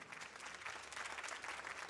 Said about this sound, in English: Can we have a round of applause for this guy?